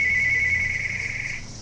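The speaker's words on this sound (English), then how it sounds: "That's the Matrix phone." A phone rings with a steady electronic tone, loud and close, lasting over a second before cutting off, with a faint low murmur underneath.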